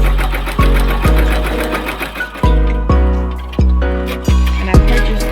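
A Brother embroidery machine stitching the hood of a hooded towel, loud and close, with a rapid mechanical needle chatter and repeating rhythmic thumps about every second.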